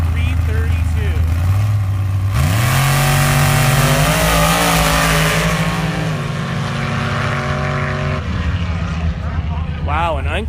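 A dragster launches off the line at the Avenal Spring Nationals drag race, a loud engine roaring and rising sharply in pitch, then holding a high howl before cutting off, with an announcer talking over it.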